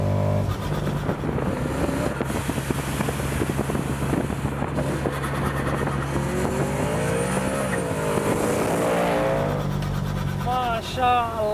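A 750 hp BMW M3 tuned by G-Power revs hard with rising and falling engine pitch, turbo sounds audible, loud and close, with wind noise and voices talking over it throughout.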